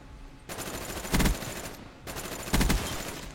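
Rapid automatic fire from an FFAR rifle in a shooter video game comes in two sustained bursts, each about one and a half seconds long, separated by a short gap, with heavier thumping shots within each burst.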